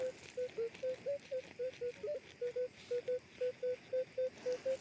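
A metal detector signals a buried coin in an overgrown forest thicket, giving a steady run of short, evenly spaced electronic beeps, fairly faint against quiet outdoor background.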